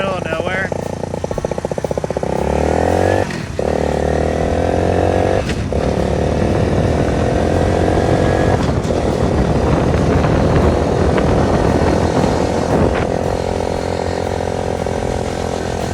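A three-wheeler ATV engine roars loud and close throughout the ride, a constant rough drone mixed with wind buffeting. A voice talks over the engine noise.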